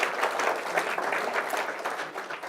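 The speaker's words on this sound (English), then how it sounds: "We should give her a big round of applause." A crowd at a performing arts center kickoff event breaks into brief applause, a steady patter of many hands clapping nearby for a couple of seconds.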